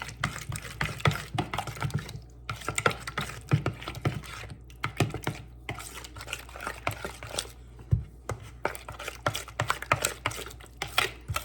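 Enchilada sauce being mixed until smooth in a bowl, heard as quick irregular clicking and tapping strokes with a faint liquid slosh, continuing steadily at close range.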